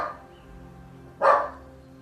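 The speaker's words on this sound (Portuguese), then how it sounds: "é que eu tenho um cachorro aqui em casa e eles ficam latindo às vezes" A dog at home gives a single sharp bark from nearby after a quiet stretch of faint room tone, with no talking.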